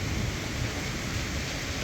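Steady broadband rain hiss with a low rumble of thunder underneath, continuous and fairly loud throughout, with no voices.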